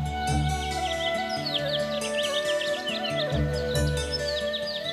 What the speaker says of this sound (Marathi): पाटे पाटे चिमण्यांचा चिवचिवाट ऐका.